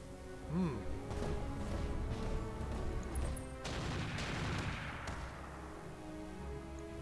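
Twin PPC energy weapons discharge in the RogueTech BattleTech mech game, giving booming, crackling blasts over a steady low rumble of game sound, with a loud burst early on and a rough surge about midway.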